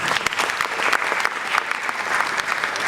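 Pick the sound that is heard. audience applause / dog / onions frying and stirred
audience applause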